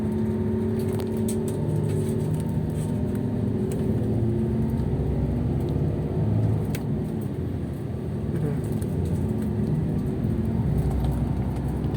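Steady low engine drone and road rumble inside an intercity bus pulling out of the departure shelter at Terminal Asari toward Bandung, continuous and moderately loud with faint interior rattles.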